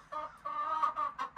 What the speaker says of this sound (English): She's still very upset because she wants to lay an egg and I am bothering her chicken coop